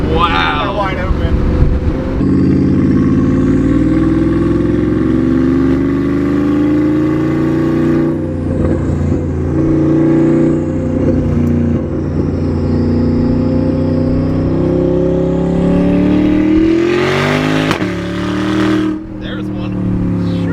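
Porsche Panamera Turbo with side exhaust revving hard at wide open throttle, a loud, continuous deep roar that rises and falls with engine speed, climbing sharply near the end, with people talking over it.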